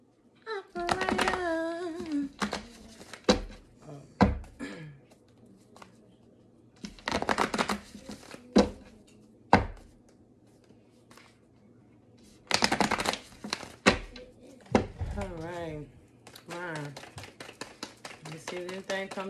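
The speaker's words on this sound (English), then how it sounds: "Anything come through while I'm shuffling the cards," A deck of cards is shuffled in repeated quick riffling bursts, close and crisp, with pauses between them while a person talks in between.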